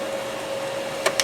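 A Brother MFC-7220 laser printer warming up indoors gives a steady whirring hum with a faint tone, ending in two short clicking bursts near the end.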